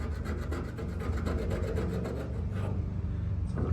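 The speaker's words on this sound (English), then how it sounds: "what you can do is take a chisel. It'll scrape the high spots and leave the low spots." Chisel scraping along rusty car body sheet metal on a Dodge Challenger to reveal spot welds: steady, close rasping strokes in a rapid regular rhythm for about two and a half seconds, then a pause and one short final scrape.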